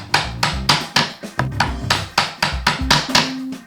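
Mallet blows on a chisel chopping a stub mortise in wood for a Shaker table, about fifteen sharp, close, evenly paced knocks with short woody decays, no talking.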